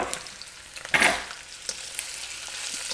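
Vegan smoked sausage hitting a preheated pan, with a loud burst of sizzling frying as it lands, then a steady softer sizzle with a few stirring clicks, close by and without talk.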